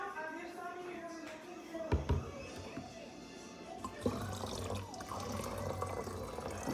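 Bottled water pours back into a container with a trickling, gurgling flow that swells toward the end, heard faintly beneath people talking at home.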